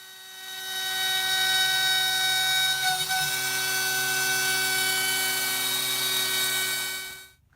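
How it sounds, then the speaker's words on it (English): CNC router spindle whining steadily while carving the back contour of a guitar neck blank for a Floyd Rose carve-top guitar, a loud, continuous high-pitched tone with a brief dip midway, then spinning down at the end. "use the CNC to carve the back contour of the neck"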